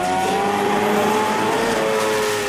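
A jet sprint superboat powered by a quad-rotor Mazda engine making roughly 860 to 900 horsepower, its exhaust a loud, continuous high-pitched rotary wail sustained throughout at a racing venue.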